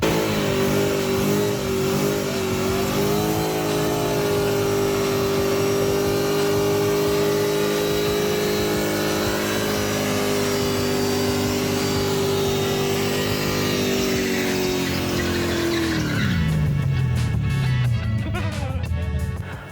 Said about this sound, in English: doing a rad celebratory burnout on her dilapidated tennis court after the wedding, in a car that I built